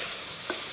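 Noodles stir-fried in a hot, smoking wok give a steady soft sizzle, with a brief clatter of stirring midway and another at the end.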